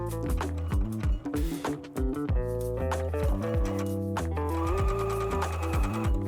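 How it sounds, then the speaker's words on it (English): A sewing machine stitches a double hem with a mitered corner on a fabric bandana, running in a steady rapid mechanical whir with brief pauses and restarts, close and loud. "Lift your presser foot up and turn your fabric so you can continue sewing the other side."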